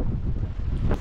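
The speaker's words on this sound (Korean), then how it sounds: "오륙도 스카이워크 쪽은 바람하고 파도가 지금 굉장히 셉니다" Strong wind buffets the microphone on the Oryukdo Skywalk coastal walking path in Busan, with rough low rumbling gusts and a faint wash of rough waves underneath.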